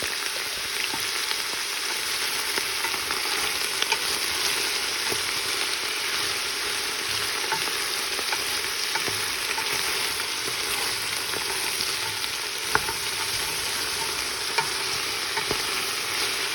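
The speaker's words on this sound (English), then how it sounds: "I'm going to stir the onions to coat them with the oil" Sliced onions being stirred as they fry in oil, a steady close sizzle running throughout with scattered scraping and clicking of the utensil, no voices.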